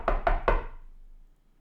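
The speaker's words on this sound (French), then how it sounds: "Je cogne à sa porte." Three quick, close knocks on a door, evenly spaced, each a hollow woody thump that fades into a short quiet tail, with no voices.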